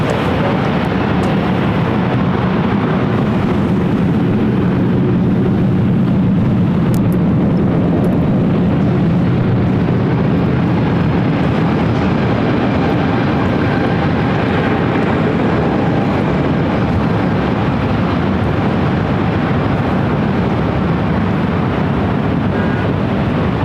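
Jet airliner taking off from runway 24 left at LAX, a loud, steady roaring engine rumble sustained throughout at close range, with no talk.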